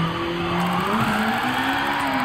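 A 200 hp Nissan S13 with an angle kit drifts in Gran Turismo 7 on a wheel, its tires squealing in a steady, sustained whine over a constant engine drone.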